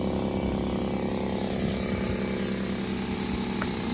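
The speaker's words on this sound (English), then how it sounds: "Let's do the shop vac." Shop vac powered by a Vanpowers Super Power Pro portable power station runs with a continuous, loud, broadband roar and motor whine, steady throughout with no breaks.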